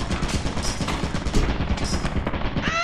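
Turret in Lethal Company firing a rapid, unbroken stream of gunshots, loud and close for the whole stretch.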